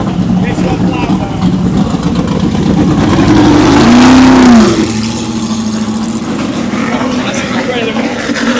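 An American V8 race car engine at a festival fires up and revs, heard up close as a loud, deep, continuous roar with one sharp rising rev blip midway.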